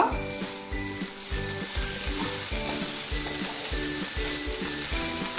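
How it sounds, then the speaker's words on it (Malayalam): Green beans for payar thoran frying in a pan and being stirred: a steady loud sizzle with rhythmic scraping strokes of the spoon repeating about twice a second, close up and without talk. "ഇടയ്ക്ക് രണ്ട് മൂന്ന് പ്രാവശ്യം ഒന്ന് തുറന്ന് ഇളക്കി കൊടുക്കുക"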